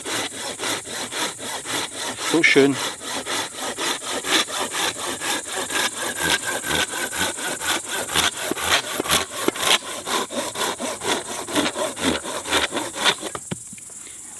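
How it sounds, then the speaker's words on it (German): A Silky Big Boy folding hand saw rasps through wood in fast, steady back-and-forth strokes, close and continuous, with a brief murmured word partway through. "Und das Vibrieren, was du jetzt gehört hast, war die Säge"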